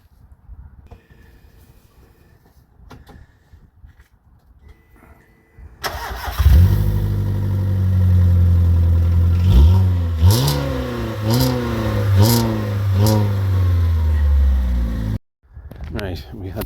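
Mk4 VW Golf fired up with no exhaust fitted: after quiet background, the engine bursts to life loudly, settles into a raw idle, then blips through several sharp revs before cutting off abruptly.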